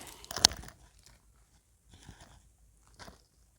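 One sharp crunchy bite into a grape rings out near the start, followed by quieter chewing crunches in a few short bursts, close and otherwise quiet.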